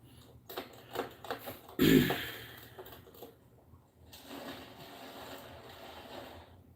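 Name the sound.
rocks tumbling in a tank strapped to a jacked-up van wheel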